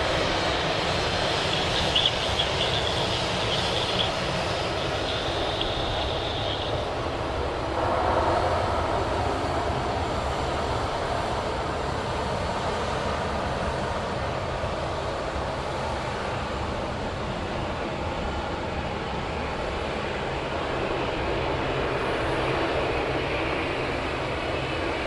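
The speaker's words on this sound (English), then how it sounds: "Rex, the loudest plane on the tarmac." A Rex airline plane taxis at Sydney Airport, a loud, sustained turboprop engine drone and whine with a steady roar, continuous and without talking.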